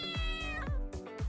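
A domestic cat meows several times in quick succession, each call loud, close and drawn out with a falling tone, heard alone.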